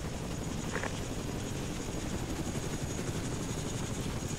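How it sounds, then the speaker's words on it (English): A helicopter in the Arma 2 military game drones steadily and loudly throughout, a dense rotor and engine roar with no break and no voices heard over it. "We need to get in the chopper quick."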